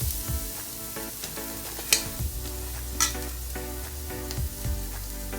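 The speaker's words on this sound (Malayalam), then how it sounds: "ഇതെല്ലാം കൂടി നന്നായിട്ടൊന്ന് വറുത്തെടുക്കാം." Garlic, ginger, dried chilli, curry leaves and grated coconut roast in a pan, crackling and sizzling steadily, with occasional sharp clicks and scrapes of a spoon against the metal.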